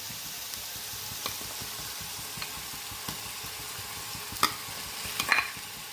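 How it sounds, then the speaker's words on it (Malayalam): Tomatoes are stirred into softened onions and ginger in a pan for a mackerel masala, with a low, steady sizzle and a few scattered spatula scrapes and taps, close by and without talk. "തക്കാളി ഇട്ട് അതൊന്ന് ഇളക്കി കൊടുക്കാം"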